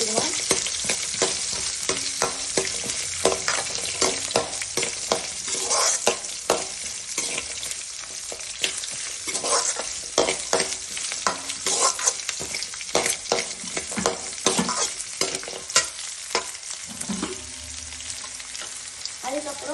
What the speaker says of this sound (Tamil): அதுக்கப்புறம் அந்த வெங்காயத்தை நல்லா நம்ம போட்டு இதுக்குள்ள கிண்டி விட்டுக்கணும்.